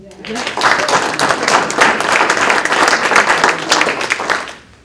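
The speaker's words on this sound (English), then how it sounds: "That's an applause" An audience at the San Mateo mayor's State of the City address breaks into steady, dense applause that holds for several seconds before cutting off, with a voice briefly over the start.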